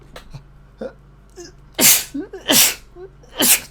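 Three loud, close sneezes from a man, building from small breaths to sharp bursts, with brief muttering between them.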